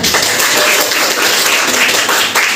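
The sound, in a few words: audience applause in classroom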